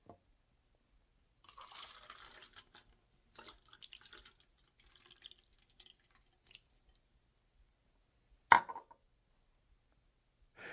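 Juice being poured in short bursts, quiet and close, with liquid splashing intermittently and a sharper splash near the end, no voices.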